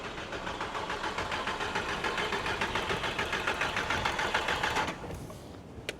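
A VW Golf engine runs steadily with a fast, even mechanical ticking from the fuel injectors, loud and close, then drops sharply quieter near the end as it cuts back.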